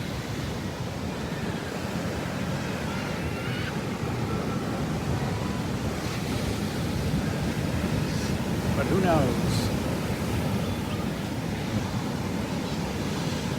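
Steady ocean surf breaks on a beach at sunset, a broad continuous wash with wind buffeting the microphone, while a person speaks briefly over it.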